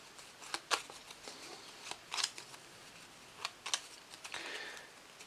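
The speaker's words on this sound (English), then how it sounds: "So you shuffle these cards." Quick riffling bursts of stiff Spirit Island board game cards, several short crackly flutters in a quiet room, ending in a longer shuffle.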